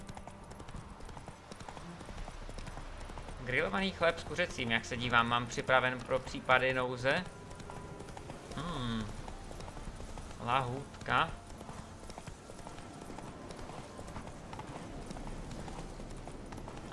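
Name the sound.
horse hooves galloping while riding, from video game The Witcher 3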